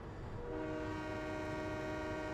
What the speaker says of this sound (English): Even though the horn and bell is completely wrong.